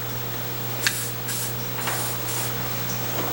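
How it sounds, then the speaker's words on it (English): Lubricant is sprayed from an aerosol can onto a part of a 1972 Homelite T12 chainsaw in several short close hissing bursts over a low steady hum, with no voices. "I should spray that down with something to help it"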